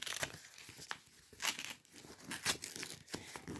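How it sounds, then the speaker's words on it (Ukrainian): A crinkly plastic surprise packet is handled and torn open in several sharp bursts, quiet and close, with rustling between the rips. "Сьогодні ми з вами відкриваємо ось такий пакетик."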